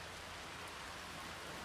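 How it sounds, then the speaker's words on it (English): Steady rainfall in the game Planet Coaster 2, a soft, even hiss of drops spreading wide across the range with no breaks, fairly quiet and with no voices over it. "We've got the rain. It's gonna be a monsoon pretty soon."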